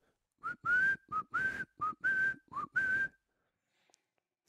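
A series of short, bright human whistles in a rhythmic, chirping pattern, imitating a guinea fowl's alarm call, loud and close with brief gaps between bursts.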